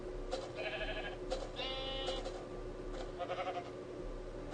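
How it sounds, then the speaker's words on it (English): Sheep in Minecraft bleat several times in quick succession, short wavering calls heard faintly over a low background, with no talking. "Look at the sheep."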